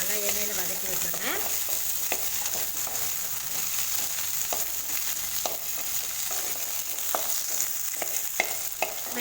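Okra (lady's finger) sautéed in oil over a medium flame: a continuous soft sizzle close up, punctuated by regular scraping and tapping of a spoon stirring the pan.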